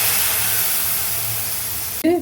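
Water squeezed from cauliflower is poured into a hot pan while cooking a cauliflower and sweet potato kola gravy, giving a loud, steady sizzling hiss that stops abruptly near the end as a voice begins.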